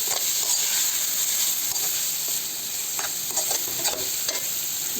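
Fish curry masala of nethallu (anchovies) with tomato frying on a low flame, a steady close sizzle broken by scraping stirs throughout.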